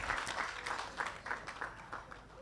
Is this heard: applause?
yes